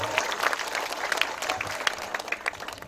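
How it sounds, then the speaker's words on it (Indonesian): An audience at a Demokrat party gathering in Sorong Selatan applauds with a steady, fairly faint wash of many hands clapping at once, heard from some distance without speech over it. "Tepuk tangan."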